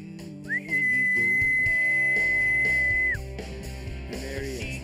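A person gives one long, steady, high whistle lasting nearly three seconds to call an American Pit Bull Terrier, loud and near, over a low background hum with faint talk.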